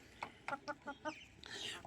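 A chicken clucks five or six times in a quick, even series up close, then lets out a longer squawk.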